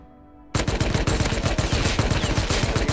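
After a brief quiet moment, gunfire in the survival game Rust erupts into a loud, sustained stream of rapid shots, evenly spaced and close, continuing steadily to the end.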